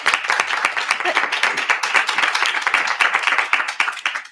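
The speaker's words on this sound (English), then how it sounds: "So, round of applause." A room of student senators claps after a piece of legislation passes, a brisk burst of group applause with distinct individual hand claps, close and fairly loud throughout.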